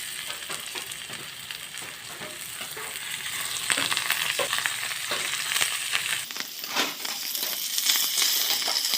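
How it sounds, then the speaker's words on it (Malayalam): Dried fish fries in hot oil in a home kitchen, giving a steady, bright sizzle with crackling pops and occasional stirring scrapes, heard alone and close. "ഇനിയും നമുക്ക് ഉണക്കമീൻ വറുത്തെടുക്കാം."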